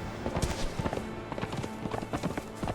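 Horse hooves galloping in the survival video game Conan Exiles, Isle of Siptah, a quick irregular run of thudding clip-clop beats, fairly near and steady throughout, with no voice over it.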